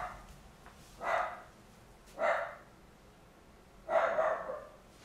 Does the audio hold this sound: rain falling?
no